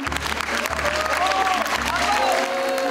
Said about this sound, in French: À son arrivée, le ministre de l'économie Emmanuel Macron est applaudi par certains,